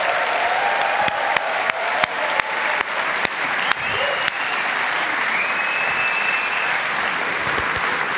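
Sustained audience applause at a comedy night welcoming Rick Kavanian, steady dense clapping from a crowd in a hall, with a few sharper individual claps standing out early on.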